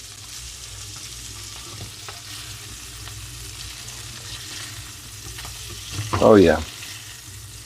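Sausage browning in a pan for gravy, a low, steady sizzle and frying hiss at moderate level, with a brief voiced exclamation near the end.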